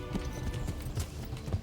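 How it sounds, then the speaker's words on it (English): Fast, even hoofbeats of a galloping horse in the video game Kingdom Come: Deliverance, soft thudding clops repeating quickly over a low background rumble. "Horse? Please sprint faster."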